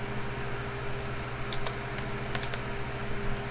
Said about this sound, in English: I'm already screwing up typing.